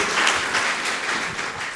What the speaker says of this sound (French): Ça mérite vraiment vos applaudissements